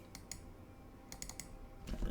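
Quiet computer mouse double click and keyboard keys used while renaming a terrain layer in image-editing software for a Tennessee watershed height map, a few faint clustered clicks over low room hiss.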